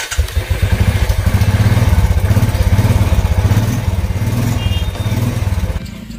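A heavy motorcycle engine turns over and settles into a loud, close, steady idle, its low exhaust putting out a fast, even pulse for several seconds.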